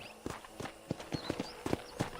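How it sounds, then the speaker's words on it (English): Horse hooves clip-clopping on a ranch in the video game Red Dead Redemption, a steady walking rhythm of distinct, fairly close hoof strikes with no talk over them. "I picked out a fine horse for you."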